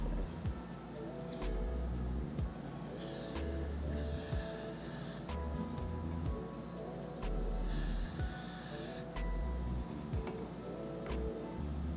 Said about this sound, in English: And then just spray.